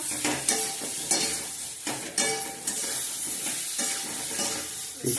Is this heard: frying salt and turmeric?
yes